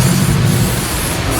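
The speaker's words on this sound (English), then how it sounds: "I'm going to spray some of this on." Aerosol spray cleaner and polish for plastics is sprayed onto a hazy Jaguar car headlight, a loud, close, continuous hiss that lasts the whole moment.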